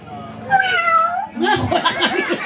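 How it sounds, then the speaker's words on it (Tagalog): A drawn-out, wavering cat meow followed by a second, more strained yowl, close and fairly loud, with no other sounds around it. "Ang saro nga pusa."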